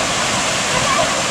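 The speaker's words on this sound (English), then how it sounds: "lovely waterfall." A waterfall on Siquijor Island in the Philippines roars as a loud, steady broadband rush of falling water, close and unbroken throughout.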